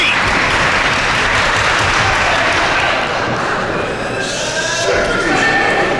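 A wrestling crowd in Rahway roars and applauds loudly at an Evolve show, a thick sustained wall of cheering and clapping with a brief dip midway and a voice faintly underneath.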